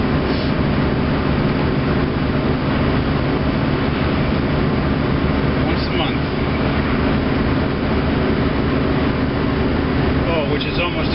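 Car engine driven hard in low gear at 35 mph, a loud sustained roar with road rumble throughout, steady in pitch, with no speech.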